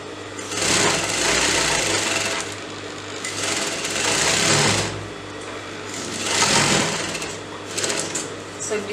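A sewing machine runs in bursts while stitching the crotch seam of palazzo pants, its steady mechanical chatter swelling and pausing several times, close and fairly loud, with a voice talking underneath.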